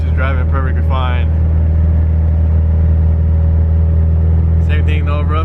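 A Subaru STI drives at steady speed, its engine and road rumble a continuous low drone throughout, with people talking briefly at the start and end.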